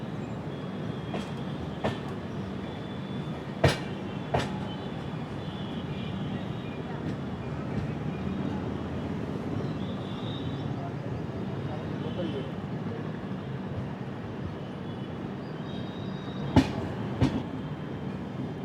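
The 16334 Trivandrum Veraval Express rolls into Bhaktinagar station with a steady rumbling ride heard from inside, broken by sharp wheel clacks over rail joints near the start and end and no talking.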